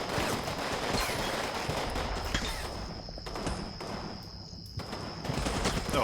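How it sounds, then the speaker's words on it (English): Gunfire from a wall in the Combat Mission WWII game set in Berlin 1945, with sustained rattling volleys and scattered shots blending into continuous dense battle noise, with no talking. "there's more firing from that wall over there"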